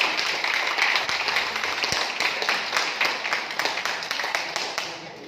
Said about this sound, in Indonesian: Kita kasih aplaus buat Pak Wasono, tepuk tangan semuanya.